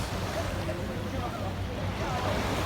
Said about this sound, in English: Now we're at Governor Square Beach